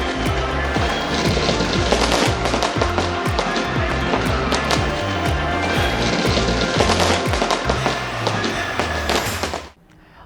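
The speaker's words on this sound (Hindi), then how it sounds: "सिडनी में नए साल का वेलकम आतिशबाजी के साथ हुआ" New Year fireworks over Sydney crackle in dense, rapid bursts, a loud rattling barrage of overlapping pops and bangs that continues steadily before cutting off abruptly.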